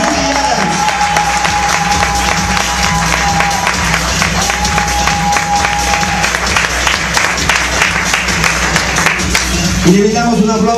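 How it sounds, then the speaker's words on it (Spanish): An audience gives sustained, dense applause with cheering at a dance showcase closing, a loud continuous wash of clapping from start to finish, with some crowd voices mixed in. "Le brindamos un aplauso fuerte para Shamsia Shazadi y su ballet Nicolás."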